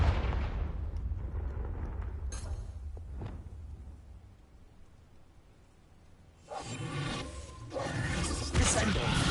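A Confringo spell fires in Hogwarts Legacy, sounding as a crackling blast with a long rumbling decay, followed after a quiet gap by a second bright burst of fiery crackle and roar.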